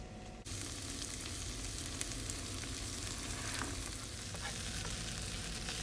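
Pinto beans, garlic and cornbread fry on a cooktop with a generator running, giving a steady, dense sizzle that carries on without a break after a short quiet opening moment.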